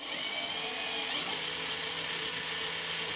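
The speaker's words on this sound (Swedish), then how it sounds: "Då sätter jag i den här borrmaskinen. Och så snurrar vi lite." A power drill spins a stator for a test, giving a steady high-pitched whine that stays level and continuous throughout, close by with no talking.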